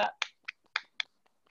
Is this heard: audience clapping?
yes